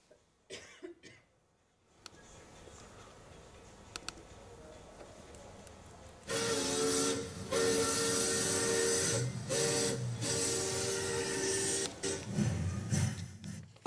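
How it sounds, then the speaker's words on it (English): A steam train sounds alone: quiet rumble and hiss at first, then from about six seconds a loud, sustained steam whistle with chuffing and hiss, briefly dipping and returning near the end. "Okay, what's the sound? It's a train."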